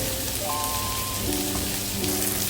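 Prawns sautéing in a pan for pumpkin and prawn poriyal make a constant, close sizzle like rain on a surface, with a few faint tonal clinks over it and no speech.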